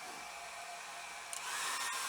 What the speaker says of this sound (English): I am going to go in with my hair dryer